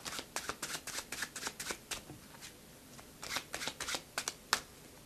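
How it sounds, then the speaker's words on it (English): Playing cards riffled in an overhand false shuffle, a rapid series of soft crisp slaps in quick bursts with a short pause midway, close and quiet. "you can use the overhand method to retain this card at its position"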